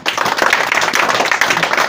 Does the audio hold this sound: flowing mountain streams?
no